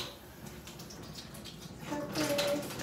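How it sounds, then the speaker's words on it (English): Water running from a tap while something is rinsed, a soft steady splash that grows louder toward the end, with a voice faintly in the background. "make sure you rinse it off when you're using it"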